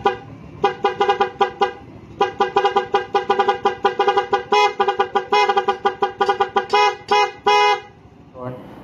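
A loud vehicle horn fitted with a music relay honking in rapid repeated bursts, some short toots and some longer blasts, close up.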